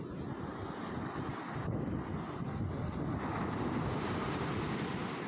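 Waves wash in at the shore with a steady, broad rushing roar, heavily mixed with wind buffeting the microphone throughout.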